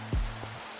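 Rain pours down in the Minecraft video game, a steady soft hiss that runs through the short moment, with a brief low thump near the start.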